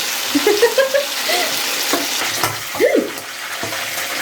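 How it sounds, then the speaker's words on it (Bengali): Chicken pieces, including feet and heads, fry together in a pan of hot oil for an orange chicken curry, with a steady close sizzle, some stirring, and a few brief squeaky tones over the crackle. "এখানে পাটা যা আছে সব একসাথে ভেজে নিতেছি।"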